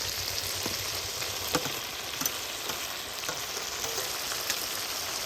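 Water hyacinth leaves frying in a spiced masala with Kashmiri chilli powder, giving a dense, continuous sizzle up close, dotted with light taps and scrapes of stirring.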